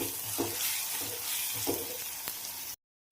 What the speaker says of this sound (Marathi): आता हे सर्व मसाले मी ह्याच्यामध्ये ॲड करते आणि मसाले पण छान मी असे परतून घेते